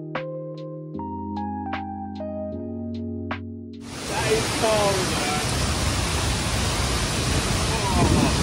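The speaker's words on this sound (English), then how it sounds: "It's by far the biggest and most impressive waterfall I've ever seen." Nungnung waterfall in Bali, Indonesia, a huge waterfall heard as a loud, steady broadband roar that starts abruptly partway through after a quieter stretch of tonal music-like sounds.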